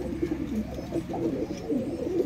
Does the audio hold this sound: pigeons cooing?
yes